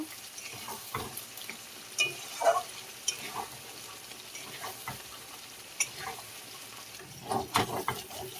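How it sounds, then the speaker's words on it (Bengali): A spice paste of mustard and poppy seed for pointed gourd cooks quietly in a pan, with a soft frying hiss under irregular scraping and clacking strokes from a spatula stirring it. "দিয়ে আমি ভালো করে নাড়ব। ভালো করে আমি কষিয়ে নেব।"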